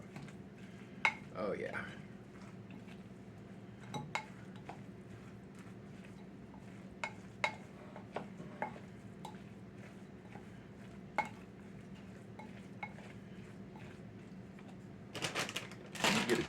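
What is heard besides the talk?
mashing stuffed acorn squash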